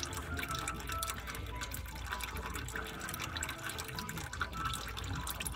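Transmission fluid draining from the pan of a 3.7-liter Dodge Nitro transmission, a steady faint liquid trickle and patter into a container, continuous and close.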